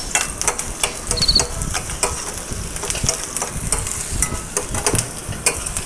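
A ladle stirs onion pieces through a sizzling pan, loud close scraping and clacking strokes in quick irregular rhythm over a constant frying hiss.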